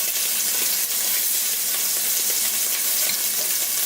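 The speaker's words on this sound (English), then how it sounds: "I could start putting the shrimp into my" Shrimp fry in a hot pan while spaghetti with a seafood white wine sauce is being made, giving a steady, close, bright sizzle with faint crackles and no talking.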